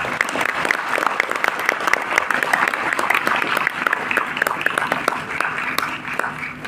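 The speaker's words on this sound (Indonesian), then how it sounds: "Beri tepuk." Audience applause after a religious sermon or poetry recital honouring an NU figure in Lombok, steady dense clapping from a sizeable crowd with a faint voice intermittently audible underneath.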